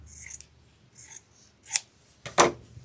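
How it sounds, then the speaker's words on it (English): Scissors snip through a piece of bright orange quilting fabric in a few separate cuts, close and crisp, with short pauses between strokes and no talking. "So let's just cut a little piece of this off."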